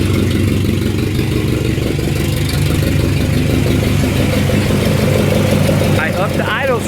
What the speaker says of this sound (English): I upped the idle screw right here.